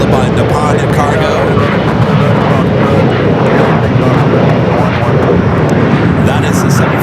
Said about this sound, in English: Air France Flight 202, the second 777 at 300 ER flight coming in from Paris on the day